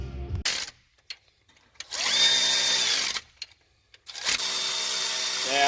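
A power tool whirs in two loud bursts with short gaps, its pitch rising and falling as it spins up and drives home the timing case bolts on a 2H diesel engine.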